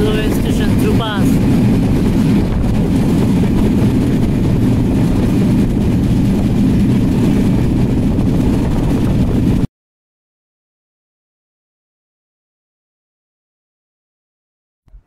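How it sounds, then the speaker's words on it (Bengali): Kapotaksha Express intercity train running through Phultala railway station at night without stopping, heard from on board as a dense continuous rumble that cuts off into silence partway through. "আমাদের train Phultala railway station through pass"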